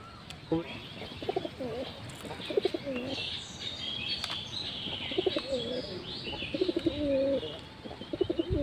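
Several pigeons coo in soft, repeated throaty phrases, with occasional chirps over a constant background hiss.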